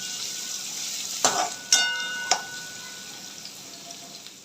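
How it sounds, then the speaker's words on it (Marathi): Chopped onion and chili frying in oil make a continuous bright sizzle, punctuated by three sharp clacks of a utensil against the pan. "एक बारीक चिरलेला कांदा आणि व्यवस्थित गोल्डन ब्राऊन कलर येईपर्यंत कांदा आपल्याला परतून घ्यायचा आहे"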